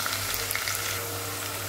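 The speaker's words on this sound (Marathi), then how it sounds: "कांदा व्यवस्थित गुलाबी रंगावर परतून घेऊया आपण।" Onion sautés in a pan with a constant crackling sizzle of hot oil, close and even, with a faint low hum underneath and no voices.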